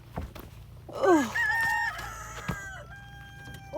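Chickens and a rooster at a backyard coop, with a clear rooster crow near the mic followed by clucking and other fowl calls, close and fairly loud.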